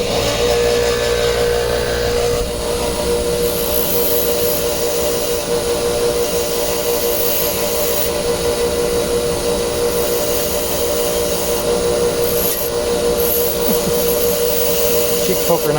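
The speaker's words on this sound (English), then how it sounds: "I'm gonna straighten that up and clean it up on the wire wheel." Bench wire wheel cleaning a Toro Big Red rototiller part, a steady loud whirring grind with scratchy contact noise throughout and a brief dip in intensity early on.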